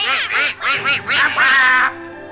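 Several ducks quack in a rapid, loud run of nasal calls close by, about six bursts over a couple of seconds, with no talking.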